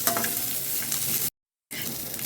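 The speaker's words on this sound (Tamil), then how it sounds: "தேங்காவையும் போட்டுட்டு ஒரு 2 நிமிஷம் நல்லா வதக்கி எடுத்துக்கலாங்க" Coconut sizzling and being stirred in a hot pan for pirandai chutney, a steady close frying hiss with soft scraping, briefly cut by a moment of silence before the sizzle resumes.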